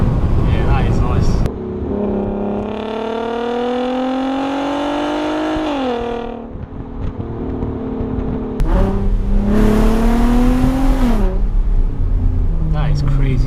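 A loud VW Golf R32 engine revs up and holds a high roar, then drops and revs again, with a person talking over it at times.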